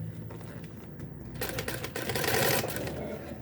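A sewing machine stitches a Paris-style suitcase handbag, a quiet rapid mechanical patter that starts softly, then runs louder and steadier for about two seconds, with the faint rustle of fabric being folded.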